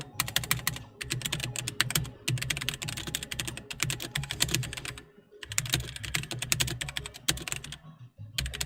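Rapid bursts of clicking keystrokes on a computer keyboard while entering a command, fast typing broken by short pauses, close and crisp with no speech.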